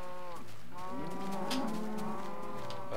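Cows in Minecraft let out repeated long, wavering moos that overlap and run back to back, close and steady, with no voices over them.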